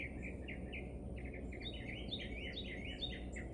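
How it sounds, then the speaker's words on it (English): Birds sing in a Texas pollinator garden in mid-September, a lively run of bright chirps and warbling phrases carrying over steady outdoor background noise. "I love the birds singing."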